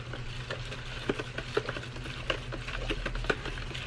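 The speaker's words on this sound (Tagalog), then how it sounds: "Halo-haloin mo lang ito hanggang maglapot." A spoon stirs a thick homemade dishwashing liquid mixture in a container, with soft rhythmic clinks and sloshing repeating about every half second.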